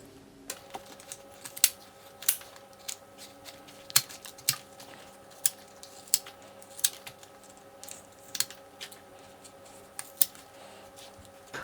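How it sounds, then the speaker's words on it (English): Small crisp snips and clicks at irregular intervals as the tips of a vegetable stalk are trimmed off, faint and close over a quiet background hum, with no talking. "with these little parts here, we just want to trim them. So trimming them off like so."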